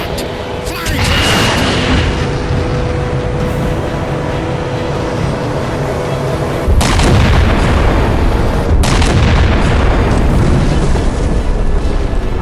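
A heavy ship-mounted weapon fires in Halo 4 and sets off big booming explosions, a sustained roaring rumble that swells louder partway through, with sharp blasts punctuating it.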